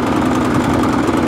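Small lawn mower engine idling roughly just after a carburetor clean, a steady uneven rumble with slight knocking, close and loud with no talking.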